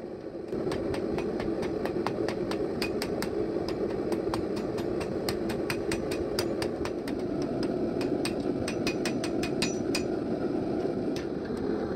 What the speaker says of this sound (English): I start by using a heavy 5-pound hammer to shape the tip of the knife.